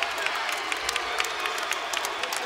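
An arena crowd at a televised pro wrestling show applauds and cheers for Sting, a loud, steady roar of clapping and whoops with sharp peaks, heard from the midst of the audience.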